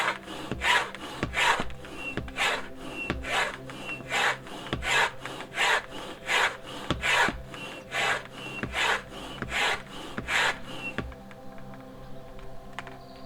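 Hand pump inflating an Aqua Planet PACE inflatable stand up paddle board, a steady run of about fifteen rhythmic rasping strokes close by, each with a whooshing push, stopping shortly before the end.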